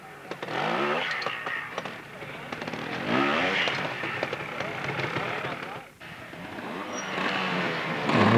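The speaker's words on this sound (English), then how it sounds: "And Paul Rose here now riding Yamaha after changing after the Scottish" A Yamaha trials motorcycle ridden through a section at a trials competition, its engine revving and burbling steadily under continuous commentary from a voice.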